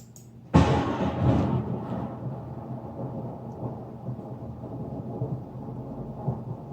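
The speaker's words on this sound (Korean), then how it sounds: "시내산에 빽빽한 구름이 끼고 천둥과 번개 소리가 들리고" Thunder sound effect for the storm over Mount Sinai: one sudden loud crack that rolls into a long, low rumble, fading gradually but continuing through the clip with no voices.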